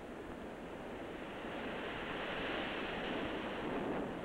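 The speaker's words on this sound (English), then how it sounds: "Doug and Yvonne keep an eye on the Pacific surf" Pacific surf at Chicama in northern Peru, where long smooth waves break: a continuous broad wash of surf swelling slightly louder, heard from a distance with some wind, no voices.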